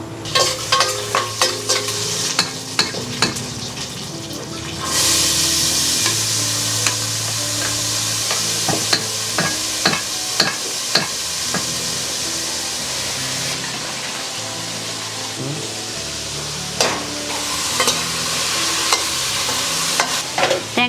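Dried red chillies and curry leaves sizzle in hot oil with mustard seeds and urad dal for a chickpea sundal tempering, a steady loud crackle with bursts of stirring and spatter throughout.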